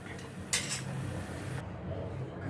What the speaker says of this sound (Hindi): अभी गैस पे मैंने ये तड़का पैन रखा है